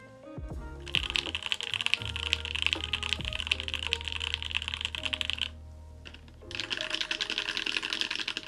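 Rapid typing clacks on an ikki68 mechanical keyboard fitted with FLCMMK Ice Mint linear switches, with close, crisp keystrokes in dense bursts and a short pause before the typing resumes.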